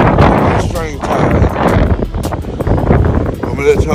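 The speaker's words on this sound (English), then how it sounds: "It's hella windy" Heavy wind from Hurricane Ida buffets the microphone with steady low rumbling gusts while someone talks over it outdoors.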